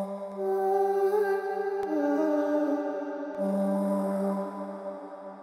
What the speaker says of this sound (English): Just some vocal pads.